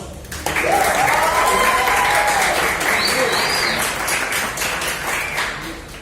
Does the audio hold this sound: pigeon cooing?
no